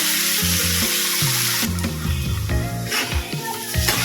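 Salted, turmeric-dusted potatoes sizzle in oil in a pan, a steady close hiss and crackle with brief louder bursts, accompanied by soft background music.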